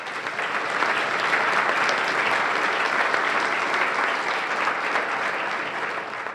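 A steady, full round of applause from a forum audience honoring volunteers and members, sustained at even loudness throughout with no talk over it.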